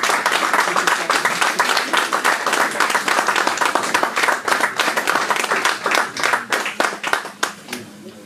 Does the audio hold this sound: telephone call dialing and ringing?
no